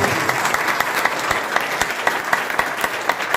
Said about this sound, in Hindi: मैं चाहूंगा आप तक की सबसे जोरदार तालियां